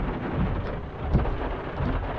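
Rain falling during a thunderstorm at a beekeeping site near hives and a truck, a steady loud wash of rain noise with a low rumble swelling briefly midway.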